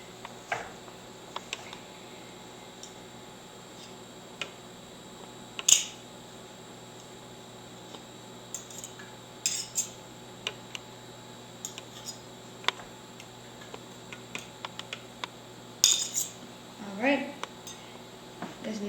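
A fork combs strands out of cooked spaghetti squash, making quiet, sparse metallic clinks and scrapes against the dish at irregular intervals over a near-silent background.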